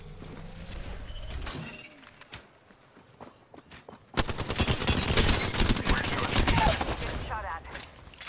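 Rapid automatic gunfire in an Apex Legends firefight, a sustained loud burst of shots filling the second half after quieter scattered shots and movement earlier.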